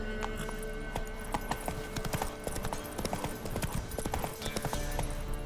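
A horse's hooves gallop in The Witcher 3: Wild Hunt, a quick steady clip-clop rhythm close by with faint ambient game sound and occasional jingling tack, no talking heard.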